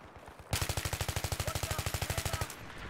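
Rapid automatic gunfire in a video game, a loud sustained burst of about twenty evenly spaced shots lasting two seconds, close and alone before it cuts off.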